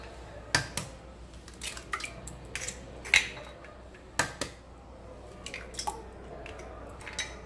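Room-temperature medium eggs going into a mixing bowl, with a series of sharp taps, cracks and wet drips scattered over several seconds, close and fairly quiet with no talking.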